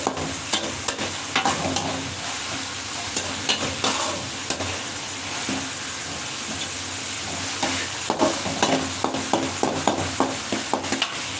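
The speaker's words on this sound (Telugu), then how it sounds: "ఒక ఆనియన్ మంచిగా కొద్దిగా గోల్డెన్ కలర్ వచ్చే వరకు మనం మంచిగా వేయించుకుందామండి." Onion frying in hot oil in a home kitchen pan until golden, a steady close sizzle with frequent sharp clicks and scrapes of stirring throughout.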